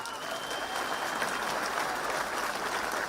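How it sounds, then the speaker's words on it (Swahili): An audience applauds at a night-time gathering, the clapping steady and dense throughout with no pause. "Unaweza piga makofi sawa sawa."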